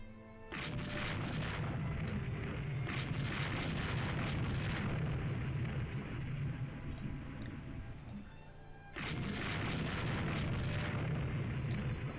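A torpedo strikes a warship in Rule The Waves 2, setting off a long roaring explosion that rumbles for several seconds, dips briefly, then surges again in a second heavy blast, loud and without talk.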